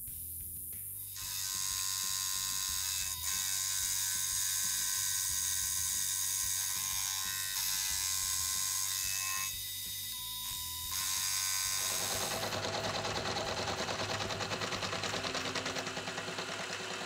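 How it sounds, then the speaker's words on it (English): A roughing end mill cuts steel on a milling machine while making a die holder, a loud continuous grinding chatter. Its pitch shifts and grows harsher and brighter toward the end. "So out comes the rougher to rip off the excess material."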